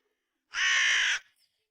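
One loud, harsh caw from a crow close by, a single raspy call lasting under a second against silence.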